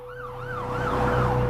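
Ambulance siren wailing in rising and falling sweeps, growing louder as it approaches, with road engine noise underneath.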